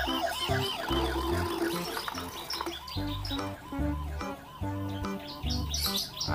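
A toy emergency van sounds a repeating electronic siren melody with beeping, chirp-like tones and pulsing low notes in a steady rhythm, close and moderately quiet, with no talking.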